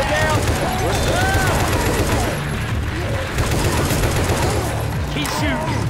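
Sustained gunfire in Left 4 Dead 2, a dense stream of rapid shots close and loud throughout, mixed with game voices shouting over the barrage.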